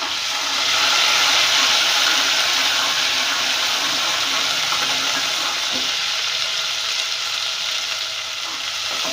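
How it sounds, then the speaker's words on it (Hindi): Garlic-ginger paste frying with golden-browned onions in a pan, a loud steady sizzle and crackle throughout with occasional stirring scrapes, no talking. "अब इसमें मैं लहसुन अदरक का पेस्ट डाल दूँगी। इसे मैं अच्छी तरह भून लूँगी।"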